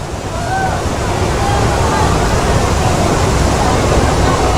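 Floodwater rushes after heavy rain in Pidie Jaya, Aceh, as a loud, continuous roaring wash close to the microphone. There is some wind buffeting and no clear talk.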